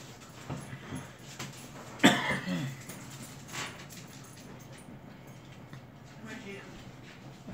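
A puppy whimpers in soft, brief whines at close range, mixed in with people chatting nearby.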